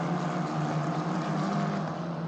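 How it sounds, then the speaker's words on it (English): An Italian F4 Championship Formula 4 race car engine runs at the Paul Ricard Circuit, a steady, slightly distant droning hum that barely changes over the whole stretch. "It looks as though he's just managed to keep the engine running."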